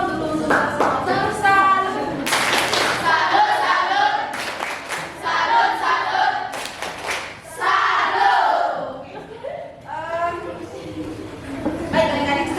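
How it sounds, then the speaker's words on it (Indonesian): Eighth-grade class in an Indonesian language lesson performing a rhythmic clapping cheer, sharp clap bursts alternating with loud chanted voices in a patterned call, close and energetic, with shouting throughout. "Tepuk salut dulu untuk salut."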